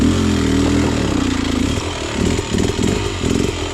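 Beta XTrainer dirt bike engine running steadily up close, the rider blipping and feathering the clutch so the revs rise and dip in a series of short pulses.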